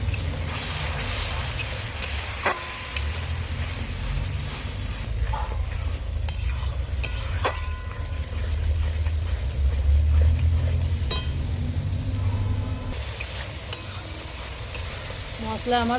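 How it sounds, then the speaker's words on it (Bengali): Spice masala for pomfret fish curry is stir-fried in a pan, a continuous close sizzle with repeated scraping and clinking of a spoon against the pan and a low rumbling background. "অল্প একটু ভালো করে কষিয়ে নেব মশলাটা"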